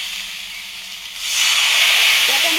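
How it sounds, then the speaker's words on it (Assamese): Ginger, garlic, coriander and onion fry in hot oil with salt and turmeric, giving a loud steady sizzle that swells after a quieter opening second. "নিমখ, হালধি অকণমান দি এইখিনি ধুনীয়াকৈ মই ভাজি ল'ম"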